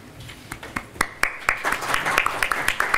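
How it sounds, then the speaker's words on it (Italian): An audience at a youth theatre performance claps, starting with scattered sharp claps that quickly build into steady, moderately close applause. "Capito, l'applauso è perché sono stato corto"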